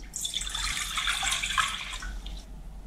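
Water runs steadily for about two seconds as 700 ml is poured into a pot for boiling rice, a continuous close splashing stream that then stops.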